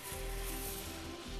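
Pork ribs sizzle on a hot grill grate, a steady, close hiss of searing meat with no voices.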